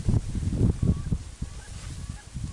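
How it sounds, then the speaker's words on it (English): Hunters blow duck calls down the line at a Minnesota duck-hunting opener, a run of nasal honking and quacking bursts in loose rhythm at moderate distance, with faint outdoor background. "Now you listen to everybody call right down the line."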